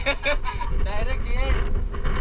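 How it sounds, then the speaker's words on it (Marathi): Strong wind gusts across a monsoon trek on Malanggad fort near Mumbai, a low rumbling buffet against the microphone running continuously beneath someone talking. "वारा लय जोरात येतोय, तर"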